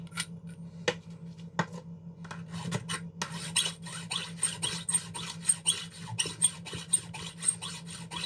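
The threads of a custom lightsaber hilt are trimmed to correct clocking, making a quiet, close rasping scrape repeated in quick uneven strokes, with a few sharper clicks and no voices.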